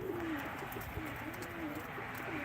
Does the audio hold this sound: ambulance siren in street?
no